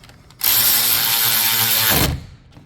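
Ratchet wrench tightening a 13mm nut on the live wire terminal of a starter motor on a 2013 Vauxhall Zafira: one loud, steady burst of rapid ratcheting clicks lasting about a second and a half, up close, with no talk.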